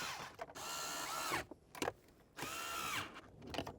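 A power driver sets factory screws into a head unit bracket in a Ford S550 Mustang, with two sustained whirring runs separated by brief clicks and handling noise, close and fairly quiet.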